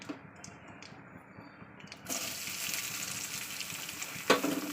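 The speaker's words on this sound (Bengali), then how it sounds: "পেঁয়াজটা দিয়ে ভালো করে আমি ভাজা করে নেবো।" Onion frying in hot mustard oil in a home kitchen, starting as a faint sizzle and swelling to a steady, louder hiss partway through, with a small clatter near the end.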